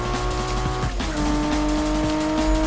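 Car drifting in the Need for Speed video game, a steady engine drone with a sustained high tire squeal and engine pitch shifting midway, loud and continuous with no talk.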